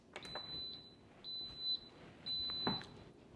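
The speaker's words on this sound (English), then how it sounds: "the timer just went off" Three electronic beeps from a pressure cooker timer, each a steady tone in an even rhythm, fairly close but modest in level, with light kitchen clatter around them and no talk.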